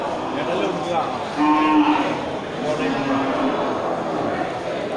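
A Simmental cow moos twice, a drawn-out low call and then a second shorter one, over steady outdoor background noise.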